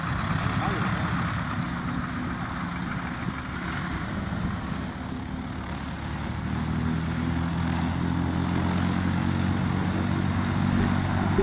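A propeller airplane taxis at a small airfield, its engine droning steadily at low idle and fairly close the whole time, with a faint hiss of wind over it.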